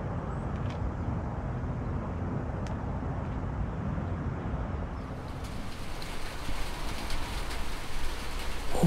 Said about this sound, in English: Raindrops fall from the sky and hit the windows, tapping on the glass, making pitter-patter noises.